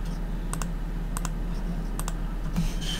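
Keystrokes on a computer keyboard come in a few quick clusters of light clicks over a low steady hum, close and moderately quiet.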